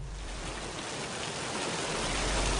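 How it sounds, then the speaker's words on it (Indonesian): Heavy rain falls during a mountain hike, making a steady, dense broadband hiss that stays close and gradually grows louder, with no voices. "Kagak lihat apa hujannya lebat kayak gini?"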